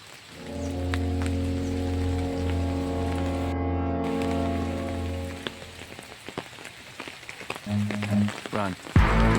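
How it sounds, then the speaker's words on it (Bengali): Heavy morning rain pours steadily on a road in the Sundarbans while someone walks through it, a dense and constant hiss with a low droning hum underneath. A brief gap in the middle and some clatter come near the end. "প্রচুর বৃষ্টি হচ্ছে"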